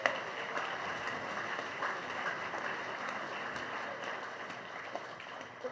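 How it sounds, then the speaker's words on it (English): A crowd applauds at a Veterans Day memorial ceremony, a dense, steady wash of clapping that holds evenly for several seconds without fading. "Let's have a big round of applause for him"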